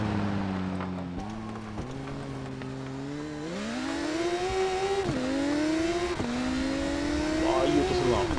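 Honda CBR superbike engine in the Isle of Man TT 2 racing game, revving and climbing through gears with rising pitch sweeps, a sharp shift drop near the middle, steady and loud, with someone talking over it.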